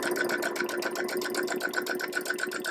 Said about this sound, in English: Line up my raw edges and sew with a 1/4 inch.